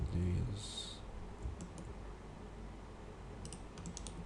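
A few quiet computer mouse clicks during CAD modeling of a nut and bolt, in scattered small clusters over a low background hum with faint talk.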